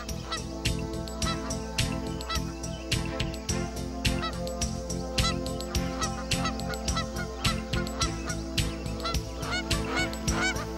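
Many geese honk continuously and rhythmically in the Macquarie Marshes wetlands, a dense, loud chorus of nasal calls close by.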